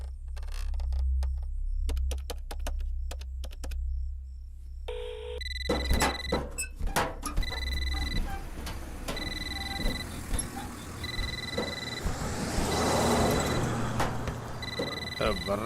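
A telephone bell rings in repeated short bursts amid a busy scene in a Telugu movie, with background noise and other sounds running under and between the rings.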